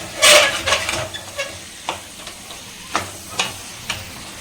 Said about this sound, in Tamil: இப்போது இந்த பொட்டேட்டோ வந்து நம்ம சேர்த்துக்கலாம்